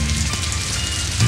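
Steady rain falls in a dense, even hiss over low sustained musical tones, with a brief swell near the end.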